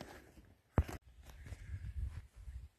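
Slow footsteps tread over the floor of a beech forest, a few soft crunching steps on leaf litter and twigs, close and quiet, with one sharper knock partway through and no talking.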